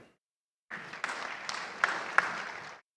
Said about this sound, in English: A round of applause for all the effort he puts in to get this program together.